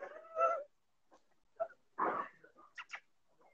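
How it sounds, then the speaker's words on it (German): A single cat meows, followed by a few short, softer vocal sounds and quiet chirps, all close and sparse against near silence. "Katze."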